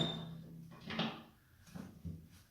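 Wood stove doors swung shut, a few quiet low clunks and scrapes spread over a couple of seconds, faint and close in a quiet room with no talking.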